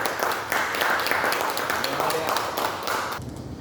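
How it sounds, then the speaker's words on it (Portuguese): Congregation clapping together during a church worship service, a steady, moderately loud spread of claps under continuing talk, cutting off near the end. "vamos aplaudir o Senhor de forte"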